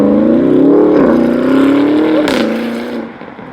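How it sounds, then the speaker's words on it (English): A Porsche Cayenne Turbo GT engine drones loud and close with a steady throaty tone that shifts in pitch, then eases off and fades toward the end, with no talking over it. "Here's the Cayenne Turbo GT."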